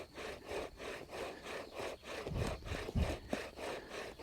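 Wooden spindle of an Egyptian bow drill spinning against a wooden fireboard, giving a steady back-and-forth rasping friction that rises and falls with each bow stroke, with a few heavier scraping bursts near the end.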